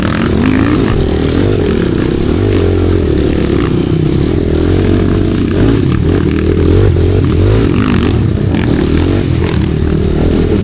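A motorcycle tumbles over behind a house near a large tree root, its engine droning loudly and steadily throughout while scraping and clattering bursts break through near the recorder.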